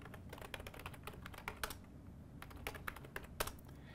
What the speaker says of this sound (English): I have to type that password right as well.